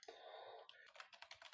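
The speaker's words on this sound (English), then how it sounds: "Me typing plumber in New York" Someone types a short search phrase on a computer keyboard. A quick run of soft, close keystrokes is heard alone, faint and brief.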